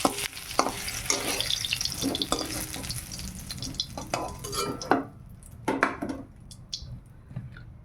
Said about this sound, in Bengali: আলুটা ভালো করে লাল লাল করে ভেজে নেই।